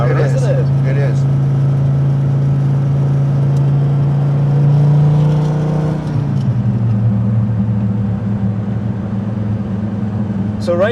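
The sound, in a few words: 1999 Dodge Viper GTS ACR engine driving in fourth gear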